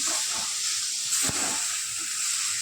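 Sambar powder sautés in a hot pan with a steady, bright sizzling hiss throughout, broken once by a brief utensil click midway.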